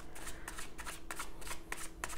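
Playing cards riffled and shuffled by hand, a run of quick crisp flutters repeating in bursts, close and clear with no talking.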